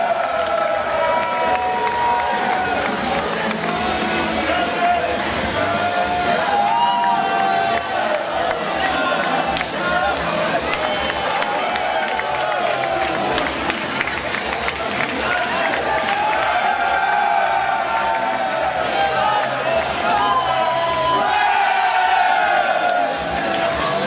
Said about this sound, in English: look at the warm welcome the fans are offering this man.